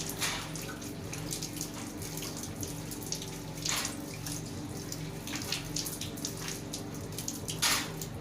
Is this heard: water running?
yes